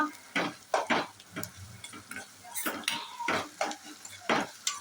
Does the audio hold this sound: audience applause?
no